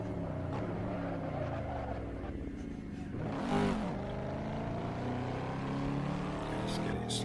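Race car in the Assetto Corsa sim at Road Atlanta, its engine droning with steady gear-like harmonic tones and a brief swelling rev midway, cruising gently on an in lap, with someone talking over it.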